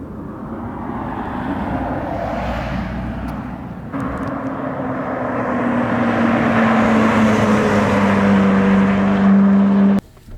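A modified 2012 MINI Cooper JCW engine drones steadily through a test drive, its tone climbing as revs rise, then cutting off abruptly near the end, loud and close with no talk.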